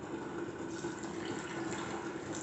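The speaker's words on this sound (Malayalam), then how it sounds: "കുറച്ച് വെള്ളം ഒഴിച്ചു കൊടുക്കാം." Water poured steadily into a mixer grinder jar while preparing a tomato roast curry, a close, continuous splashing stream lasting a couple of seconds without pause.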